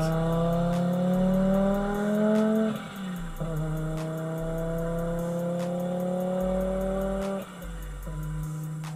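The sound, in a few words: Audi S2 Avant engine sound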